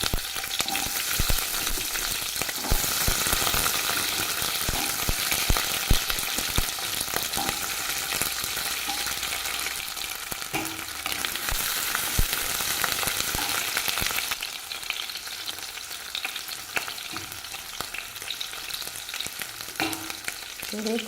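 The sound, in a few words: onion frying in oil, stirred in a pan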